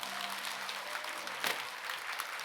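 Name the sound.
temple congregation applauding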